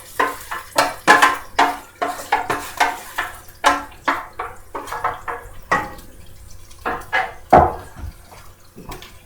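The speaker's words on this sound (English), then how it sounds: "I have my chicken stock and the rest of my Chipotle sauce from the marinade. I'm gonna go ahead and pour that in here." Chicken stock and leftover chipotle marinade sauce are poured into a hot pan, giving irregular splashing, gurgling and sizzling bursts that rise and fall over several seconds with no talk.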